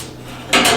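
A metal cooking grate clanks as it is lifted out of a Hunsaker Vortex drum smoker, two loud, close metallic knocks coming after a brief quiet stretch.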